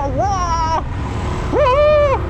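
A brand-new Royal Enfield Trials 350 motorcycle is ridden, its engine revving up twice in close, loud rising-and-falling surges with a short lull between.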